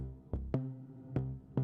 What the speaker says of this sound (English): Yeah, the main driving punchy bass one